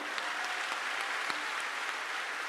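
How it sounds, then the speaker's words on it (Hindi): A large crowd at the Maha Kumbh gathering in Prayagraj claps together, a dense, distant wash of applause that stays steady throughout, with no speech over it. "जोरदार ताली ठोको इनके लिए"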